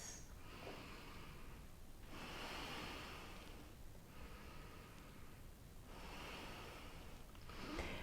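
Slow, deep yoga breaths during a seated hip-opening twist: long, airy inhales and exhales swell and fade in a steady cycle about every two seconds, close and soft.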